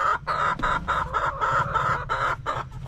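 Several hens cluck close by in short, repeated bursts, overlapping one another with a steady low hum underneath.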